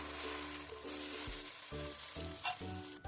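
Sizzling of an uttapam made from leftover rice batter as it roasts on a hot pan, a steady crackling fry with low background hum and a brief flare near the end.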